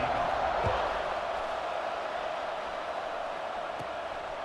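A large football stadium crowd roars continuously in a big open space, a steady wash of cheering and shouting that stays loud throughout.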